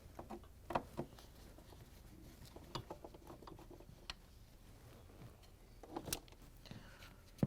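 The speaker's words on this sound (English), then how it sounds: "We're going to use the corner nut driver to take out the screw." A corner nut driver backs out the ground wire screw on a Whirlpool refrigerator power cord. Quiet, scattered metallic clicks and small ratcheting taps come at irregular intervals over a low background.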